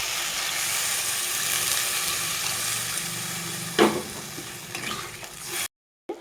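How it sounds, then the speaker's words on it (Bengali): Broth poured into a pan of sizzling fried spice mix while cooking potol with lentils, a steady loud hiss and crackle with a few sharp splashes and clinks before cutting off. "দিয়ে দিব ঝোল।"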